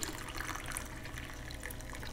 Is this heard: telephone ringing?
no